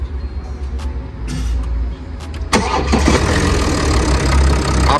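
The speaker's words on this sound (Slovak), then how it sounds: "Tak Mara nám to teraz naštartuje, aby sme počuli zvuk." A BMW X3 SUV engine cranks and catches after a quiet stretch, then settles into a steady, smooth idle close by, with no talking over it.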